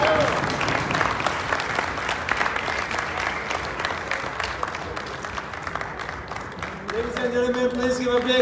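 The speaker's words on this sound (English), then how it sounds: "Please give a big round of applause to Mr. Stephen Rogers." An audience applauds after a speech by Steven Rogers to the South Asian Republican Coalition, with steady crowd clapping throughout and a voice speaking over it near the end.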